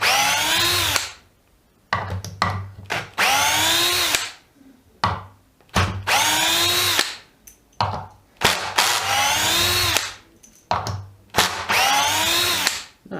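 DeWalt DCD710 drill driver sinking 70mm screws into wood, several loud whirring bursts that rise in pitch as the motor loads, separated by short pauses, up close with no talk.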